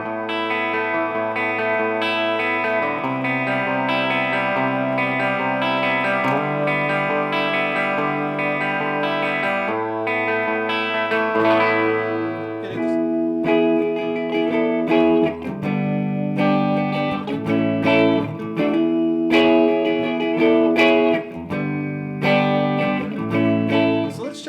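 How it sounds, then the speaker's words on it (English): An electric guitar plays clean chords and single notes through a PRS Archon 25 combo amp. A Keeley Caverns reverb pedal adds a light wash of reverb, and the playing is steady and upfront with no talking. "Now let's add the Keeley Caverns reverb pedal. Just a little bit of reverb in there."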